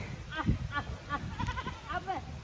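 Goats bleating on a hillside near the Vriddh Jageshwar temple in the mountains as they come when called: several short, wavering bleats spaced irregularly, moderately close, with people talking quietly in between.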